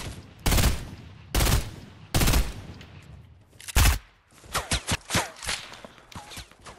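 Bursts of gunfire in the video game Fortnite, several loud, close volleys in quick succession, followed by a run of sharper, shorter shots with brief gaps between them.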